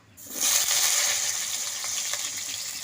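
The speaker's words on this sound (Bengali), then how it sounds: "ফোড়নটা লাল লাল হয়ে গেছে দিয়ে দিচ্ছি আমি সজনে ডাটা তেলের মধ্যে" Drumstick pieces dropped into hot oil over reddened tempering spices, a sudden loud hiss that quickly settles into a steady, close, even sizzle with no voices.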